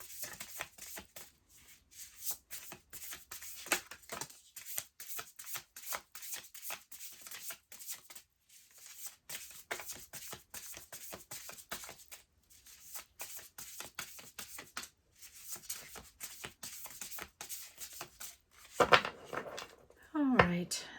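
Tarot card deck being shuffled by hand in quick, soft riffling bursts that run on and off, close and faint under continuous talking.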